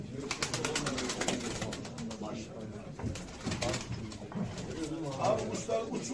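Pigeons coo repeatedly at an indoor bird auction hall in Ankara, with soft throaty calls and some rustling under chatter and voices nearby.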